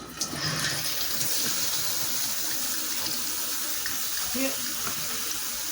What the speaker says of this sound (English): Let me turn the shower on.